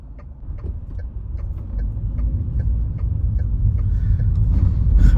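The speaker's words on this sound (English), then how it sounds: "driving their cars through the bridge." Cars drive across a city bridge in Saint Petersburg during the White Nights, a continuous traffic rumble that slowly builds louder, with faint rhythmic ticks of tyres over joints and no voices.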